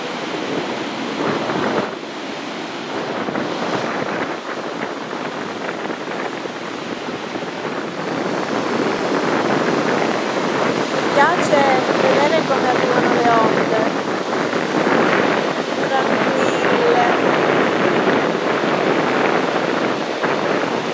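Shallow sea waves wash steadily onto a pebbly beach in November after a storm surge, a continuous broadband rush of surf with wind, swelling somewhat louder after the first few seconds.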